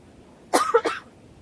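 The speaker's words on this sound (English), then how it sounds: "now this is when I'm coughing too much too" A single close, sharp double cough from a man outdoors in strong winds, abrupt and brief against a quiet background.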